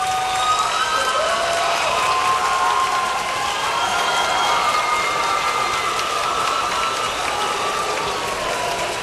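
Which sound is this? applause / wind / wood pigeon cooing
applause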